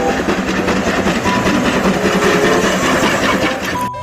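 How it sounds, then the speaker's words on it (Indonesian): A blue toy steam train runs with a steady, close, continuous mechanical whirring rumble that holds even for about four seconds before briefly dropping off at the end. "Yang pertama teman-teman, ada kereta uap teman-teman warna biru."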